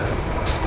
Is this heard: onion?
no